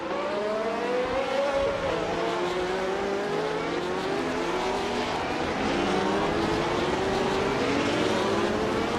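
A 1971 Ferrari 312 Beta 2 race car in a racing video game screams along with a steady, high engine whine that rises and falls through gear changes, continuous and loud with no voices.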